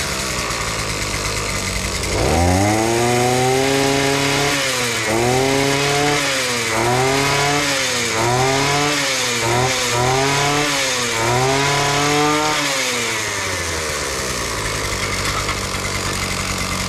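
A small Viper engine on a cheap Earthquake cultivator starts up and runs loud and close, its revs surging up and down repeatedly before settling, over steady background noise.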